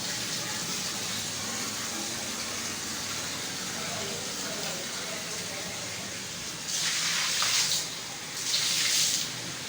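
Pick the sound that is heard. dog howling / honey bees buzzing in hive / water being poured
water being poured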